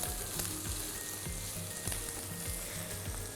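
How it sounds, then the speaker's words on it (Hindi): Onions sauté in hot oil with ginger-garlic paste for a chicken white karahi, giving a bright, steady sizzle with several quick stirring scrapes close by. "प्याज को हम सौते करते जाएंगे साथ साथ।"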